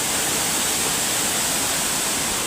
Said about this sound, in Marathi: धबधब्याचा जो पाणी आहे तो फोर्स भरपूर आहे आणि त्याच्यामुळे आवाज येत नाही